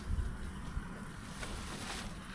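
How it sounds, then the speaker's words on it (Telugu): Strong wind buffeting the microphone at a solo night campsite near water, a continuous low rumble and roar with brief heavier gusts, no voices. "గాలి అయితే గట్టిగా వస్తుంది."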